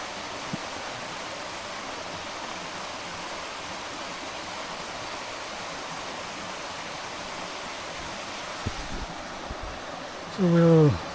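A river flows steadily at a quiet spot near old mine ruins, a constant broadband rush with a few faint knocks, and a brief voice-like sound near the end.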